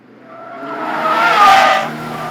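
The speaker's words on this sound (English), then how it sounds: "let's see what this MX-5 2 litres got. Nail it! Let's go the revs!" A 2-litre Mazda MX-5 accelerates hard, its engine note rising and swelling loudly as the tires squeal, peaking near the middle before easing slightly.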